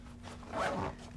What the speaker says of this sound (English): normally you would zip this up